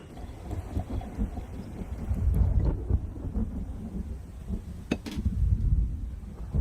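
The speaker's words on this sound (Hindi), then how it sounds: "लगता है बेमौसम बरसात होने वाली है।" Thunder rumbles low and heavy outside a bungalow as unseasonal rain begins, swelling in waves with wind noise and a faint hiss of rain.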